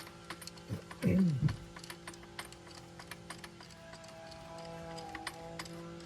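A ratchet with a 3/4 inch socket tightens strut nuts during a front strut and bearing replacement on a Subaru Ascent, giving a brief burst of clicking followed by faint scattered ticks.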